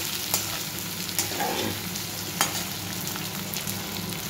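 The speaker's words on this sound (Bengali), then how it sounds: "আলুটা ভাজতে দিয়ে দিয়েছি।" Potatoes fry in hot oil in a wok with a steady, close sizzle, punctuated by a few sharp clicks and scrapes of a spatula against the metal.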